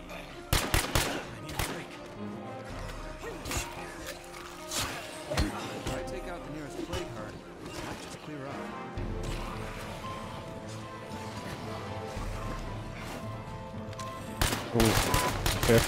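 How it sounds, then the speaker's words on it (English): Automatic gunfire erupts repeatedly in State of Decay 2 during a Lethal Zone infestation fight, with sharp bursts scattered throughout and heavier volleys at the start and close, while a player talks over it. "just shoot your gun"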